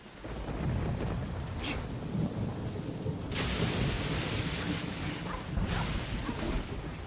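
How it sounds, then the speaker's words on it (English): Rain falls in a video game world, a steady wash of downpour broken by deep rolling thunder claps and bright crackling strikes, loud and continuous. "Also, it's raining here, that's cool."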